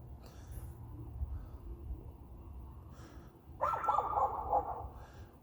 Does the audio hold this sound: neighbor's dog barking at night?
yes